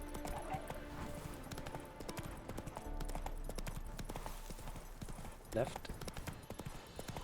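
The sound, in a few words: Roach the horse's hooves clip-clopping, from video game The Witcher 3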